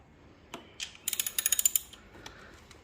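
A ratchet fitted with a 14mm socket and extension works a bolt on a 2019 Kawasaki ZX-6R, giving a quick run of about ten sharp clicks after a couple of scattered knocks; no talking.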